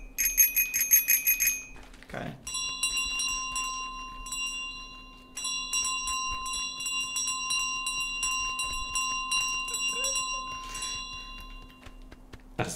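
A golden bicycle bell in Untitled Goose Game rings in bright, rapid metallic trills, several bursts repeated over a steady background tone, with a brief spoken exclamation in between.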